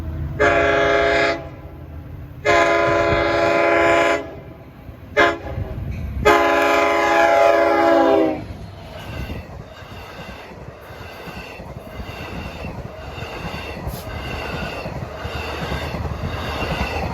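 A Long Island Rail Road Montauk Branch train approaches a grade crossing and blows its horn in several long, loud blasts, then rumbles past with steady rolling wheel and car noise that continues to the end.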